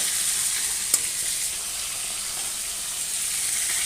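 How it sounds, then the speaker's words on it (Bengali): Small fresh pond carp frying in oil in a pan: a steady, close hiss of sizzling oil that runs unbroken throughout, with one brief sharp crackle near the start and no talking. "সব মাছগুলো ভেজে নিই, তারপর ফিরে আসছি।"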